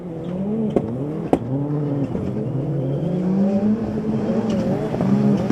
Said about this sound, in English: Dan Rook ran second as the cars battled their way towards the loose for the first time